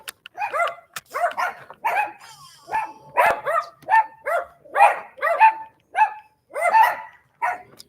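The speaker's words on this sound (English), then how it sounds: "Very small dogs here." Several small dogs bark in quick, repeated yaps, a dozen or so sharp bursts in an irregular rhythm, fairly close and clear with no talking over them.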